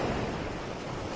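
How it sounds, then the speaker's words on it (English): Ocean waves wash in a continuous broad hiss of surf, steady and enveloping, with a faint hint of wind, no voices present. "10 hours of waves. And I'll focus on the waves."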